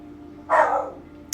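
A pet dog gives a single sharp bark indoors, short and fairly close, over a quiet room hum, followed by a faint click.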